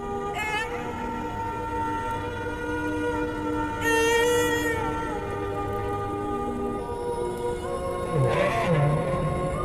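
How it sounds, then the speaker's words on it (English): A humpback whale sings in the open sea, with long moaning tones and rising harmonic cries that swell and fade against a steady deep ocean rumble, no voices present. "Petit Point will memorize the song that he hears from other whales."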